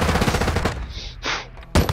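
Rapid automatic gunfire in a first-person shooter video game, a loud burst of shots that cuts off, a couple of sharp follow-up sounds, then one final crack.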